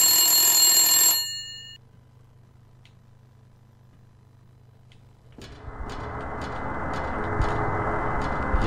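A loud, harmonic telephone ring in the Silent Hill 4 video game cuts off after about a second, leaving a low droning hum and near silence before a harsh, crackling ambient noise with scattered clicks swells up.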